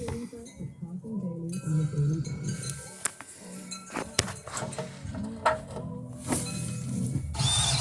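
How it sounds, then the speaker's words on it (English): Cordless drill driving a second screw through a small L bracket into plywood in a van conversion: short bursts of drill whir mixed with metallic clinks and knocks, close up, over some faint low background noise. "I'm going to put a second screw in it just to make sure it holds"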